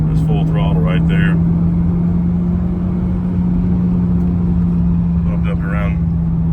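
Turbocharged 2.0T engine of a 2010 Hyundai Genesis Coupe R-Spec at full throttle, a steady loud droning hum heard from inside the cabin, with brief chirping turbo or whistle sounds near the start and end.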